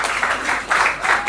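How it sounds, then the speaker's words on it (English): Audience applause for a multiple award winner at a hospital's fifth anniversary celebration, a brief burst of dense clapping from a crowd, fairly loud and continuous. "You should clap now."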